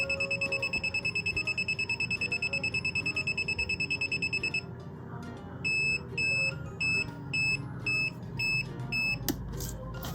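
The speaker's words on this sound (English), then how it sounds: "You'll hear a few seconds of fast beeps, signaling that the alarm is gearing up." A DIY school-project car theft alarm kit gives a rapid, steady run of high electronic beeps while arming, then shifts to slower, spaced pairs of beeps, loud and close with no talking.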